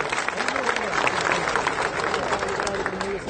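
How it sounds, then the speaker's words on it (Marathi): Steady applause and crowd noise from an audience greeting Sangram Jagtap, an MLA from Nagar, at a political gathering, continuous dense clapping throughout. "आपण जोरदार टाळ्या वाजवून त्यांचं स्वागत करावं."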